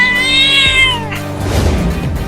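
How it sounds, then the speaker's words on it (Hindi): A cartoon cat gives a loud, drawn-out whiny meow in a children's comedy cartoon, set against busy background noise with no talking. "अरे वाह, एक छोटी और मोटी बिल्ली।"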